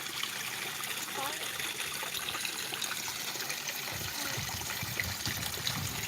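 Water flows and trickles steadily nearby at a pond where carp gather, a soft continuous wash with faint splashes, lightly under distant background sound.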